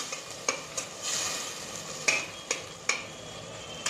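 Vegetables and ingredients for veg biryani stir-fried in a pan, a steady sizzle broken by regular spoon scrapes and clinks against the pan about every half second, close and moderately quiet, without talking.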